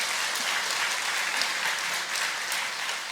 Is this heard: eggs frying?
no